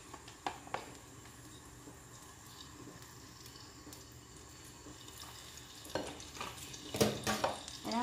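Ground pork fries in its own rendered oil for a sitaw and tofu dish, a faint continuous sizzle with scattered scrapes and clatters of stirring that grow louder toward the end, heard close with no speech.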